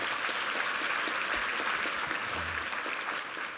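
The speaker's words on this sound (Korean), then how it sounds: "힘찬 격려의 박수 부탁합니다" Sustained applause from a church congregation during a Sunday service, dense and even clapping that fills the space and tapers slightly at the end.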